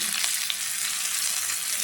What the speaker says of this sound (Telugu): ఇప్పుడు మనం పచ్చడిలో పోపేసుకుందాం